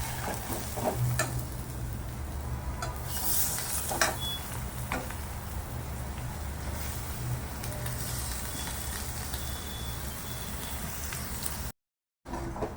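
Boiled potatoes being mixed with spices in a hot pan for aloo paratha filling, a steady close sizzle and frying hiss running throughout with occasional soft stirring scrapes, no voices.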